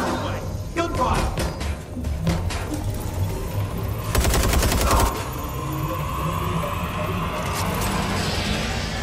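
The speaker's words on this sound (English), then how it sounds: "Gunfire!" Rapid bursts of gunfire in the video game Watch Dogs: Legion, including a sustained automatic volley, with thuds and a voice talking in the background.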